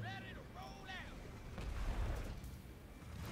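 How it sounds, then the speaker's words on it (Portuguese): Artillery in StarCraft 2 fires in low, rumbling booms beneath a game-style voice and a swell of battle noise, fairly quiet and blended into the busy soundtrack. "o cara só vai usar a estratégia de ficar atirando com essa artilharia"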